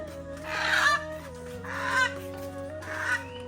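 Chickens bought to start a small poultry business cluck in three repeated bursts, close by, over a steady tonal background hum.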